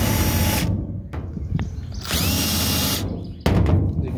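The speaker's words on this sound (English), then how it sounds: "we're going to take a countersink and use that to deburr these" A countersink bit spun by a power drill deburrs sharp cut metal edges on a stock tank for a raised garden bed, giving loud whirring bursts that stop and start again three times.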